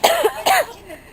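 Two harsh, close coughs in quick succession, loud and raspy, trailing off into a brief throat-clearing rasp, heard outdoors on Bonfire Night.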